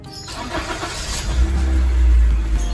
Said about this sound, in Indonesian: mesin sudah dapat running dengan normal di saat stasioner